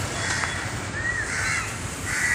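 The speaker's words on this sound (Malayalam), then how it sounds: "കാക്കകൾ നിറച്ച് വന്നവരെ കൊത്താൻ വേണ്ടി ഓടിക്കുന്നുണ്ട്" Crows cawing in a market street while chasing off other birds, a few loud harsh calls spaced across a steady background hum of traffic and surroundings, no talking.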